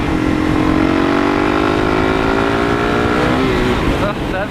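A Suzuki DRZ400 motorcycle engine pulling hard after a downshift, loud and close, its revving drone climbing steadily in pitch for several seconds before easing off.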